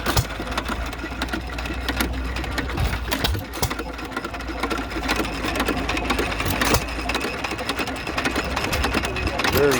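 Antique hit-and-miss engines run at an antique tractor club show in Midland, Michigan, giving a steady, busy mechanical chugging and clatter that stays loud and close throughout, with crowd murmur in the background.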